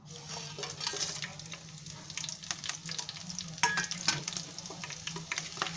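Whole spices sizzle in hot oil in a kadhai for matar pulao, a steady hiss with quiet scrapes and stirs close by.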